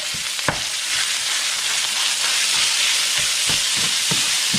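About 250 grams of ground meat fries in a pan with a loud, continuous sizzle, and soft scraping stirs punctuate it now and then.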